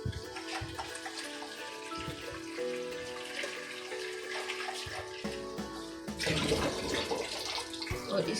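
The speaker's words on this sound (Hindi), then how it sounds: "थोड़ा सा पानी मैं इसमें और शामिल करूंगी" Water runs and splashes from a tap into a pressure cooker holding beef trotters, a steady close pour that swells louder in the last couple of seconds.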